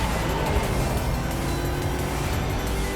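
A Mazda MX-5 drives in the 2005 racing game Need for Speed: Most Wanted, its engine note droning steadily and rising slightly in pitch, close and continuous with road noise.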